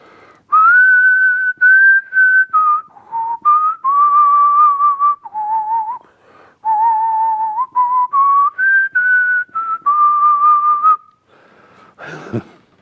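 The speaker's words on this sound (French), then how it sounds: "J'ai beaucoup sifflé aussi." A person whistles a melodic tune, clear and close, in sustained phrases with short pauses between them, alone.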